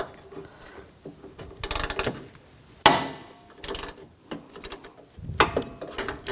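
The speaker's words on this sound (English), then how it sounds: "Using a 10mm socket, loosen these bolts up." 10mm socket on a ratchet wrench loosening bolts on a 2004-2009 Toyota Prius radiator and condenser fan assembly, giving irregular metallic clicks and scraping knocks at close range with quiet gaps between.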